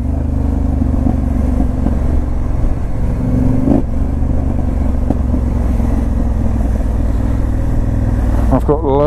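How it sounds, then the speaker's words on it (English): A Honda Africa Twin DCT motorcycle fitted with a Remus exhaust runs on the overrun, giving a steady, close engine drone mixed with road and wind noise, with a brief rising rev near the end. "This exhaust sounds wonderful on the overrun."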